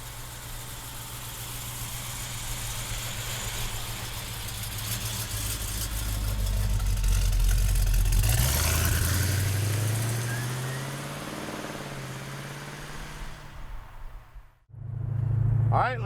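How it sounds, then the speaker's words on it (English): A 1970 Chevrolet Chevelle with a 454 V8 and dual exhaust, a deep steady rumble that swells as the revs build and then settles back, cutting out briefly before firing up again close by. "she's got a 454 in her, got dual exhaust, and it sounds great"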